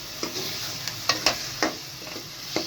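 Hand-pounded ginger garlic paste sizzles in a pan while keema is cooked. A soft, steady fry plays under a few sharp scraping clicks from a spoon stirring, and no one speaks.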